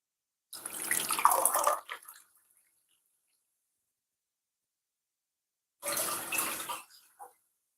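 Water is run into a pot, about 2.5 cups for Jamaican rice and peas, in two separate bursts of close splashing and gushing, each lasting around a second, with silence between.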